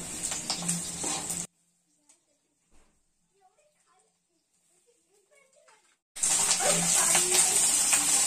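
Chopped capsicum (bell pepper) sautéing in hot oil for chicken chilli: a loud, dense sizzle and hiss that cuts off to near silence, then returns just as strong.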